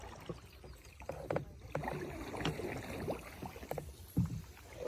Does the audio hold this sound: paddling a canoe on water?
yes